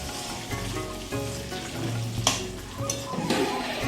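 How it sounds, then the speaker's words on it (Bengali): Potatoes for a home-style biryani fry in a pan while being stirred, a moderate sizzle broken by spatula scrapes and a couple of sharp clinks, close by and with no talking. "আলুগুলো একটু নাড়িয়ে নিচ্ছি যাতে আলুগুলো সুন্দরভাবে ভাজা হয়"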